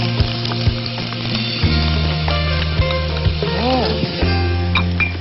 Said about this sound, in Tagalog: Cook our onions. Get this to caramelize.